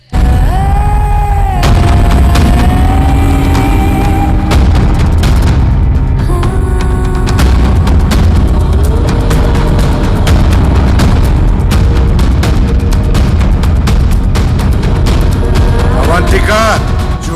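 Heavy gunfire and booming blasts from an action film dubbed into Swahili, continuous and loud throughout, layered with a dense soundtrack and voices.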